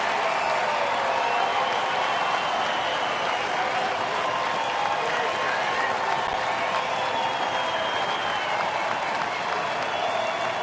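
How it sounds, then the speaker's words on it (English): Crowd of nearly 40,000 at a baseball stadium for a night game, a continuous roar of cheering and applause heard from a distance, steady and sustained, with faint voices mixed into the din. "Here comes the crowd now."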